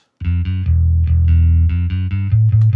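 An unprocessed bass guitar plays a short line of plucked notes, dry and close, with a muddy, deep boomy low end and some bright string overtones.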